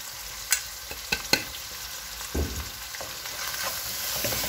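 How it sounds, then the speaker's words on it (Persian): Spices frying in a pan with ground meat and bell pepper for a macaroni dish, a steady sizzle under a few sharp scrapes and knocks of stirring, close and alone without talk. "این ادویه هم قشنگ تفت میدم حسابی سرخ بشن"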